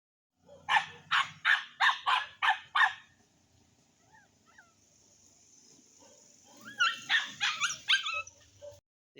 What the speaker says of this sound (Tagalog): yung Maltese kong aso ito yung anak niya